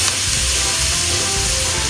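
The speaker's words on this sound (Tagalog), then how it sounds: "Then igisa lang natin." Tender boiled beef sautéing in a pan for kare-kare makes a loud, close, continuous sizzle that stays even for the whole brief moment.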